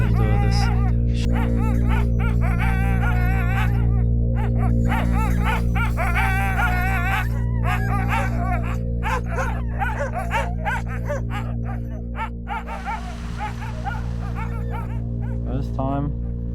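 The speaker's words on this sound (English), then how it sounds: "No, they're bringing out the dogs." Sled dogs on a polar bear hunt in the Arctic bark, yip and whine in an excited chorus, loud and close over a steady low engine-like hum, with people talking now and then.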